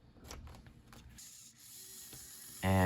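A small USB-powered DIY motorized rotating display stand, a lazy-Susan type, clicks and rattles faintly, then its motor kicks in with a loud, steady buzzing whine near the end.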